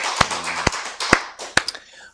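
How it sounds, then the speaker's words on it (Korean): Scattered applause from a church congregation during a Wednesday service, a few sharp, distinct claps spaced irregularly with soft background noise between them. "우리 박수를 하나님께 드리겠습니다."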